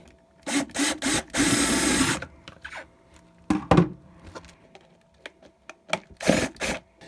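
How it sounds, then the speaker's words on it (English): A drill bores holes in plastic dollar store containers in several separate bursts, one long and loud, the rest short, with brief pauses and light clatter between them. "Now our holes are in and drilled"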